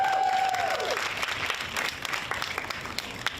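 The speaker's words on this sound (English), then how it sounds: "so you should give yourselves a round of applause." Nurses at an outdoor candlelight vigil in Austin, part of a nationwide protest, break into applause: a dense, steady wash of many hands clapping with a few cheers, as a voice trails off at the start.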